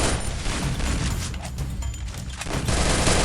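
Shotgun blasts in the Free Fire video game, loud, dense and close, booming fire filling the whole moment with heavy, overlapping reports.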